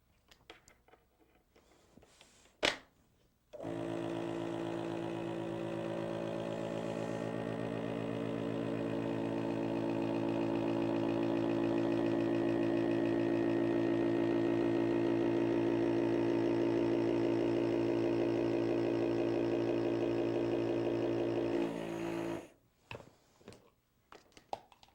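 A FoodSaver vacuum sealer pumps air out of a canister through its jar hood, a steady motor drone that runs about twenty seconds and rises slightly in pitch, with clicks before and after.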